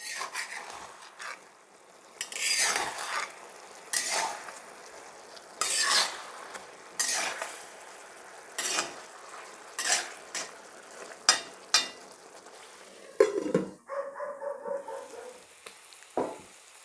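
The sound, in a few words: stirring masala chicken frying in a pan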